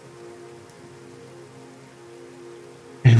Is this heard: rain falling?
yes